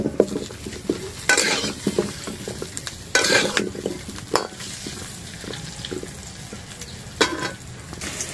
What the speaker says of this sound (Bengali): কড়ার মধ্যে সরষের তেল দিয়ে আলুগুলো ভেজে নেব।